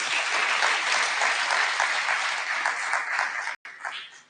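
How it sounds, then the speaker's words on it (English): Steady, full applause from a blockchain conference audience in a Kampala hotel fills the room without pause, briefly cutting out for an instant near the end before resuming. "Another round of applause"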